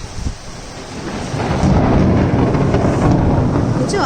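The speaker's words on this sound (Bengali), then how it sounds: "কেমন বৃষ্টি শুরু হয়ে গেল বাবা বিদ্যুৎ চমকাবে" A sudden storm breaks with a deep roll of thunder while heavy rain pours, the downpour swelling louder and filling the scene with a dense, continuous hiss.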